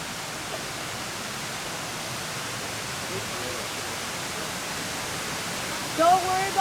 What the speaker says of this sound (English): Don't worry about the waterfall.